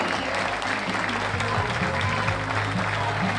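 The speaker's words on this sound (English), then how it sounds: "let's give UNCW a round of applause for their outstanding" A crowd at a college baseball championship trophy ceremony claps steadily in a dense, sustained round of applause, heard from within the stands.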